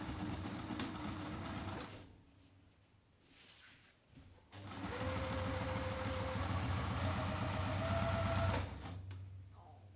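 A sewing machine runs in two bursts of steady stitching, stitching a folded slip pocket piece for a sling bag with a quarter-inch seam allowance and 2.5 stitch length. A short quieter pause falls between the runs.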